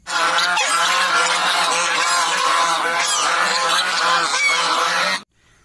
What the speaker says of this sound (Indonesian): wow ini angsa teman-teman